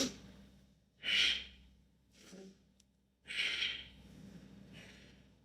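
A person breathes during a prone shoulder mobility exercise, with two strong breathy exhales and quieter breaths between them, close and alone.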